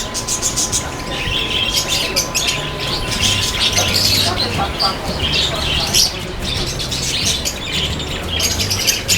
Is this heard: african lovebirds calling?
yes